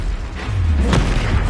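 A Confringo explosive spell blast in Hogwarts Legacy, a single short booming burst with a low rumble, loud and close.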